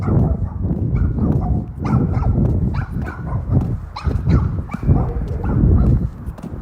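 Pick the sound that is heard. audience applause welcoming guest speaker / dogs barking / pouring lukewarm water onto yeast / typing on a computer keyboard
dogs barking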